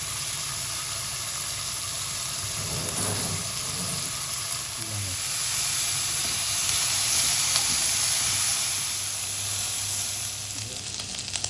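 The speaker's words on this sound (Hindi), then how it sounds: "यहाँ पे मैं लूँगा 4 रिबन बीफ पीस और इनको अच्छी तरह क्रिस्पी ब्राउन कर लेंगे" Four ribbon-cut beef pieces fry in oil in a frying pan, giving a steady, hissing sizzle that swells and settles, close by, with occasional soft shifting and stirring sounds.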